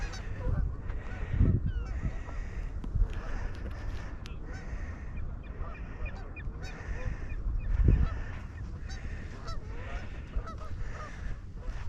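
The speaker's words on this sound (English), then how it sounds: "These are the Canadian geese." Canada geese honk near a lakeside beach and forest trail in a provincial park, scattered loud honks rising over outdoor ambience, with louder calls near the start and again later.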